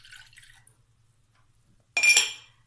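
Water from a glass poured into a bowl while making lemon cream for tartlets, a short splashing burst near the end after near silence.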